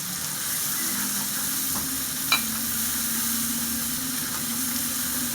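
Chicken roast frying in a pan with chili powder, a steady close sizzle and hiss of hot oil running continuously, with one brief scrape of a spoon stirring midway and no voices.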